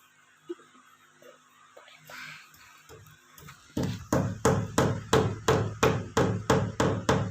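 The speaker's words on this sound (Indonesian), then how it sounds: "Kemudian kita paku lagi." A hammer drives a nail into a wall to mount a wall shelf: about ten loud, evenly spaced, close strikes in a steady rhythm follow some quieter handling noise and brief soft laughter.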